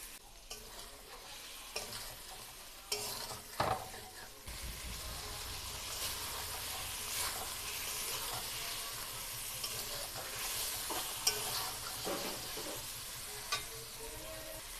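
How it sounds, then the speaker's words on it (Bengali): Lote fish sautéed with spices in a pan over a very low flame gives a steady soft sizzle with scraping stirs and a few clunks of a spatula, close by with no talking. "মাছটা ভালো করে মশলার সাথে কষিয়ে নিয়েছি"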